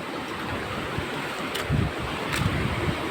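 Strong sea waves wash onto a beach in a northeast monsoon wind, a steady broadband roar with a few louder surges of surf and wind buffeting the microphone.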